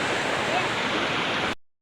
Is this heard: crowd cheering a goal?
no